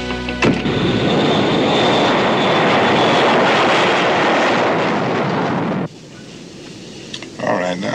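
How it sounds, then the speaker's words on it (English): Loud, steady jet aircraft engine roar at an airport, a White House jet waiting, holding broadband and even for about six seconds before cutting sharply to quieter background with brief voices near the end. "There's a jet waiting at the airport."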